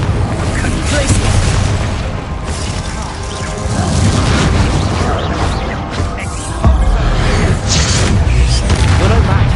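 Bombarda and Confringo spells burst in Hogwarts Legacy on PS5, loud rumbling booms and crashing blasts that run almost continuously, with spoken spell calls mixed in.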